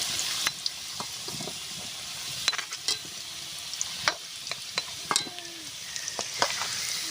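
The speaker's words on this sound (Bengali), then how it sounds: "সুন্দরভাবে আলুগুলো ভাজা হয়ে গেছে" Potatoes frying in a pan for a village-style Bengali mutton curry, a steady oil sizzle with repeated sharp stirring clinks and scrapes of a utensil, close up, with no voices.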